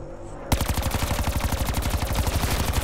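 Rapid automatic gunfire in Black Ops 4 Zombies, a loud, fast, evenly spaced burst that starts abruptly after a short quiet moment and keeps firing steadily to the end.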